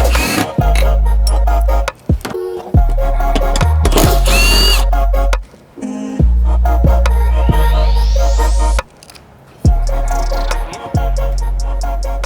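Power tool driving bolts to fit a seat in a Toyota Prado 250, heard as repeated loud whirring bursts, each lasting one to two seconds and separated by brief pauses, with clicks and ratcheting between runs.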